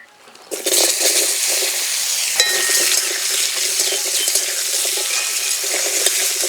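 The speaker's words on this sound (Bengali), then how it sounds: "মাছ ভাজা তেলে আলু ভেজে নেব।" After a quiet moment, a loud sizzle erupts as potato pieces drop into hot oil left from frying puti fish in a karai, then a steady close crackle continues with light stirring clinks.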